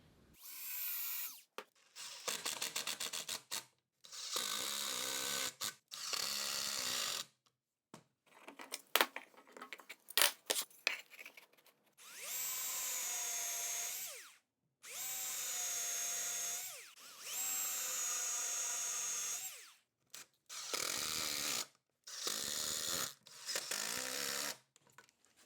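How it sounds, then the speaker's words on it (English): A power drill pre-drills and countersinks screw holes in wood for a DIY bike hanger, whining in a series of short, close bursts separated by quiet pauses. "pre-drill and countersink holes to attach the sides with 1 3/4 inch screws"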